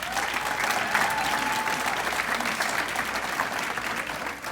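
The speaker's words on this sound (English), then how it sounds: "Give yourselves a round of applause" An audience of teachers at a chamber of commerce awards reception applauds steadily, a dense wash of clapping that holds at even loudness for several seconds without fading.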